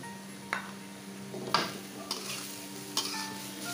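Vegetables for a chicken spring roll filling being mixed in a pan, with a few spaced scrapes and clinks of a utensil over a faint, quiet sizzle, close by.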